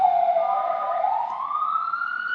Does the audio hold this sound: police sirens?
yes